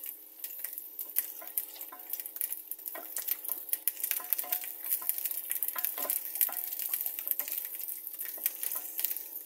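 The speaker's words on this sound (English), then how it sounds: "You're going to look at my sausages while they're cooking." Red wine, lamb and garlic sausages frying in a pan, a constant fine crackling sizzle with scattered sharper pops and a faint steady hum beneath.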